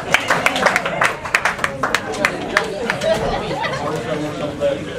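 A crowd at a cancer prevention talk claps for itself, a short burst of applause mixed with chatter and voices, fading into murmuring babble.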